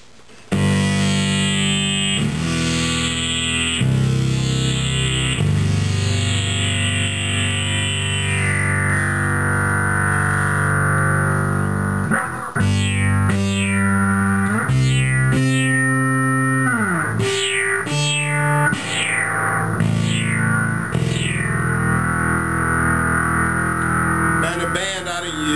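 A bass guitar runs through a Digitech XBW Bass Synth Wah pedal set to a synth function, producing loud, buzzy synth notes that sweep in pitch and repeat in uneven phrases with sharp attacks and gliding filter decays.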